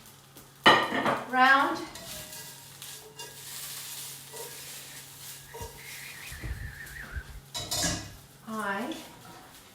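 Metal serving utensils scrape and clatter against pots and a plate while bangers with mustard sauce and sweet potato mash are dished up in a cookery class, with several sharp clinks amid ongoing kitchen noise and a voice speaking briefly.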